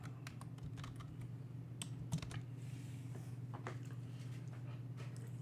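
Numbers are typed on a computer keyboard, with scattered light key clicks in irregular bursts over a steady low hum, fairly quiet and with no voices.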